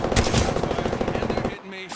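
Rapid automatic gunfire bursts in Apex Legends, loud and close, a dense stream of shots that briefly drops out before resuming.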